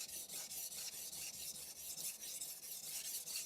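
A knife is sharpened on a Shapton Pro 1k whetstone, giving a quiet, scratchy rasp in quick, regular back-and-forth strokes, roughly four or five per second.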